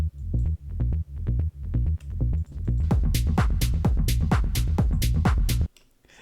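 A discarded track of extra toms from a JOOF Recordings electronic production, steady pitched tom hits in a regular pattern that speed up into a dense, brighter roll before stopping abruptly, no talking.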